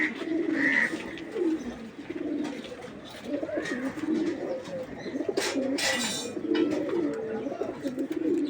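Giribaj pigeons kept for sale coo repeatedly close by, giving soft, low, rolling calls in a steady series across the whole stretch, with occasional brighter rustles and chirps among the birds.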